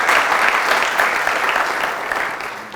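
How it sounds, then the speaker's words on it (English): A crowd claps steadily and loudly, a dense continuous wash of applause that tapers slightly toward the end. "Applause for our friend Ameen."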